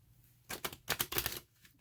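Tarot cards being shuffled by hand for a pick-a-pile reading, heard as two short bursts of crisp riffling and flapping card sounds, close and fairly quiet, with no talking.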